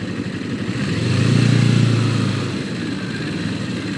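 Bicycle with a tiny motor passing along a New York lane: a faint buzzing engine hum grows louder, peaks in the middle of the clip, then fades away as it goes by.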